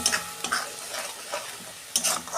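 Spice paste with turmeric frying in a pan for a Bengali fish dish, a soft steady sizzle broken by a few louder scraping stirs near the start and end, with no talking.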